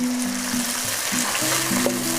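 Water is poured into a pan of sautéed leeks while cooking boxed rice dishes, producing a steady, close sizzle and bubbling hiss that continues evenly throughout, with faint tones underneath.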